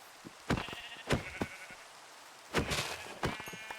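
Several sheep bleats in Minecraft, two short calls early, then louder drawn-out bleats later, separated by quiet gaps.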